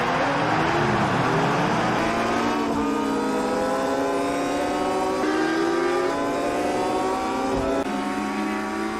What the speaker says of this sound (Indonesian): Ketika aba-aba dimulai, semua pembalap melaju dengan cepat.